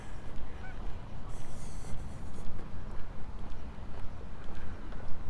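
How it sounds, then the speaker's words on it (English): Geese honk repeatedly at a lake in Regina, a chorus of fairly faint, overlapping calls in an uneven rhythm against open outdoor ambience. "Geese everywhere."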